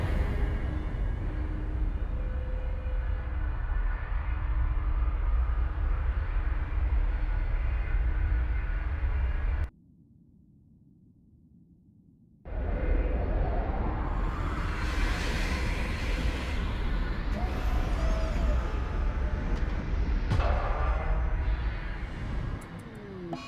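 A spaceship flying into orbit in Rimworld Odyssey, a loud continuous roaring rumble that cuts to a low muffled drone for a few seconds, then returns with rising whooshing sweeps.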